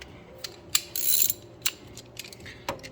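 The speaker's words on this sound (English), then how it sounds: "we got a 10 mil socket here" A ratchet turning a 10 mm socket on a 2001 Chevrolet Silverado during a coolant overflow tank replacement gives sparse, close, crisp clicks, with a brief denser burst of ratcheting partway through.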